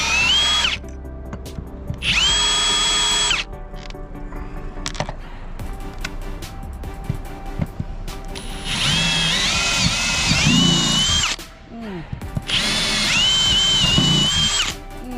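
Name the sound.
power drill drilling holes in a boat deck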